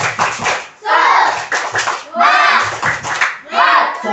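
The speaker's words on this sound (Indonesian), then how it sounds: "kalau biar lebih semangat lagi, kita tepuk semangat dulu yuk" Children in a classroom doing a rhythmic clapping chant, a teacher-led tepuk semangat, with bursts of group voices and hand claps in short repeated phrases, loud and close.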